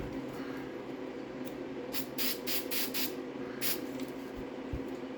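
Aerosol spray can hissing onto a Triumph TR6 seat cover, several short close bursts over a steady low background hum.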